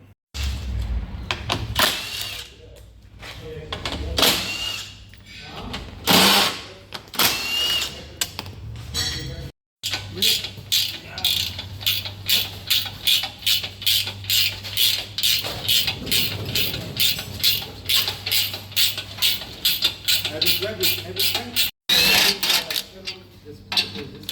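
A ratcheting tool removes M12 bolts with 17mm heads from the bull bar reinforcement on a 300 Series Landcruiser, giving rapid, close clicking runs in repeated bursts with short pauses between them.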